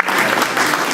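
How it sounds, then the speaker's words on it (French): Applause from a lecture audience honouring a professor after a conference talk, a dense, steady wash of clapping filling the whole moment at close range. "on reste encore une fois à applaudir le professeur"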